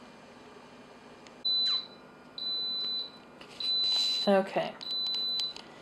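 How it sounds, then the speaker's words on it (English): An Instant Pot pressure cooker beeps loudly after a quick release: four long, steady electronic tones, each about half a second to a second, separated by short gaps. A brief spoken word comes between them, with light clatter near the end. "so you can hear the beeping"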